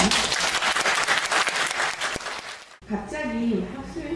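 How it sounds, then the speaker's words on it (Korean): Audience at a student academic festival talk concert breaks into a burst of applause that lasts about three seconds, then cuts off sharply to a quieter room with a voice speaking. "박수 한번 칠까요?"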